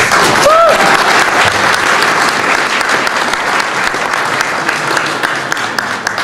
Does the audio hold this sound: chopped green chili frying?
no